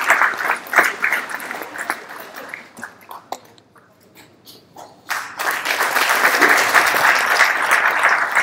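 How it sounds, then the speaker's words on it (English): Clapping from an award ceremony audience starts out uneven, fades to a few scattered claps, then swells back into loud, sustained applause. "Congratulations, ladies and gentlemen, a round of applause for Lucinda."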